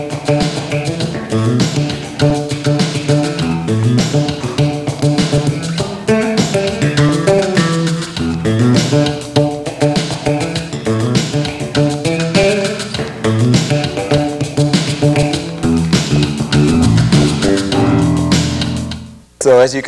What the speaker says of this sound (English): Another approach is to play a more guitaristic kind of part